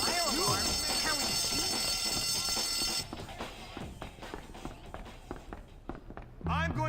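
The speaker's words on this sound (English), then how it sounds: "Fire alarm?" A continuous electronic fire alarm rings loudly inside a school in the video game Bully, a steady tonal ringing that cuts off after about three seconds, followed by footsteps and game sounds.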